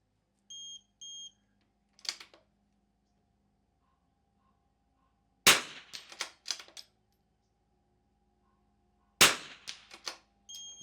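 At an NRL22 rimfire match, rifle shots crack out in three short clusters with quiet gaps between them, sharp and close, alongside faint electronic timer beeps near the start and no speech.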